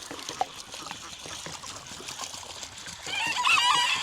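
Fresh water is poured for backyard poultry, a thin trickle running steadily, then a louder gush of splashing near the end, with faint distant bird calls behind.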